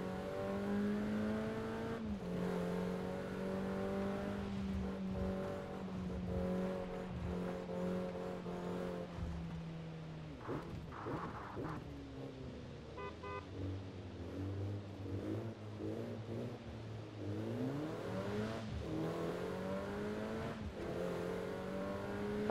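Car engine in a driving video game, revving and accelerating steadily with rising and falling pitch as gears shift, loud and continuous throughout with no talk.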